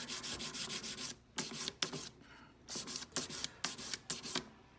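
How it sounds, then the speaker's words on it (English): Coarse sandpaper rubs back and forth against the edges of a metal ring during a jewelry resizing repair. The scratchy strokes come close and loud in rhythmic bursts, with brief pauses between them. "Now I'm going to come in with my coarse sandpaper."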